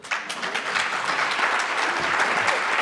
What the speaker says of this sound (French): On pourra applaudir aussi les autres.